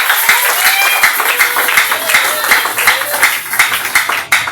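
An audience applauds with lively, dense clapping at a charity foundation gathering, sustained steadily for several seconds, with voices mixed in underneath.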